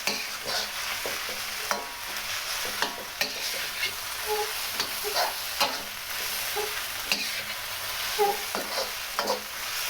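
Beef lo mein stir-frying in a hot pan: a steady sizzle runs throughout, broken by repeated scraping and tossing clatters of the spatula, close and fairly loud, with no talking.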